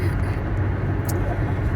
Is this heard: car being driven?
yes